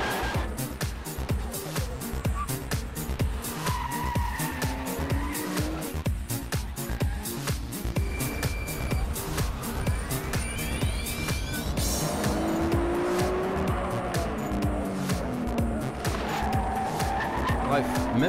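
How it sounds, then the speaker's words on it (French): Nissan Skyline R34 Nismo with a titanium exhaust, driven hard on a tight mountain road, roars loud and close with rising and falling engine notes and tire squeal throughout. "Quant au bruit délivré par l'échappement titane, il est tout simplement monstrueux."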